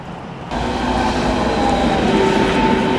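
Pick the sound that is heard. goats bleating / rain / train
train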